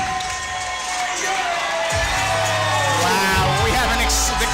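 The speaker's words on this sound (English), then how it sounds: "Wow, the crowd is excited for this fight too." Crowd at a live MMA fight event cheering and yelling continuously, a loud dense roar that swells near the end as fighters are introduced.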